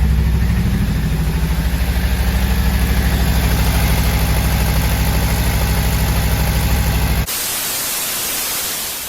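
Close, loud drone of a Honda Civic Type R FN2 engine idling roughly with an injector fault, a steady pulsing low rumble with a high whine riding on top that changes abruptly near the end.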